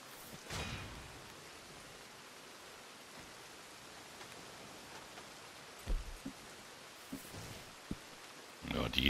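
Rain falls in the open world of the video game Red Dead Redemption 2, a soft, constant hiss of rainfall with a few louder thumps and rustles breaking through.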